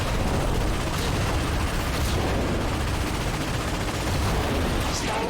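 An ion cannon fires in the Ratchet and Clank video game, a loud continuous roaring barrage of blasts and rumbling explosions with no pauses.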